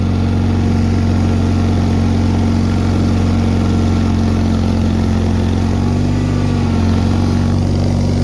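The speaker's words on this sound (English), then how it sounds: "you can listen to the strain on the motor, how hard that is" A Bolens HT-23 garden tractor engine with a blown head gasket and clogged cooling fins labours under heavy load, a loud continuous low drone holding steady, dipping slightly near the end.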